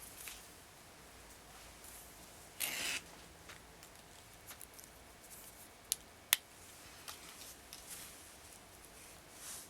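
Scissors snip through beading thread at a bracelet worktable, a short crisp cut burst followed by a couple of faint sharp clicks against quiet room background.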